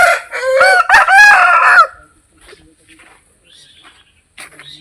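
A fighting rooster bred for cockfighting in India crows loudly and close for nearly two seconds, followed by quiet with faint clucks and distant bird sounds.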